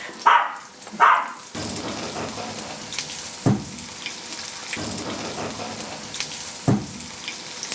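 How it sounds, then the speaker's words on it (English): Steady crackling sizzle of breaded tripe deep-frying in hot oil, with a few louder thumps and clatters breaking in at intervals. "Oh, that's what we want. We want that sizzle."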